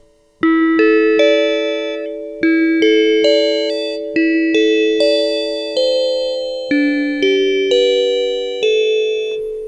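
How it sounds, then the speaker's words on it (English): Bright, metallic bell-like tones from a M0SS 416 FM synthesizer ring out in a repeating sequence of struck notes, each decaying slowly with shimmering overtones, loud and alone. "Right, so we have created a bell sound."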